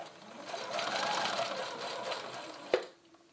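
A sewing machine stitching fabric for a Rapunzel princess dress runs in a short close whir for a few seconds, ending with a sharp click and then quiet.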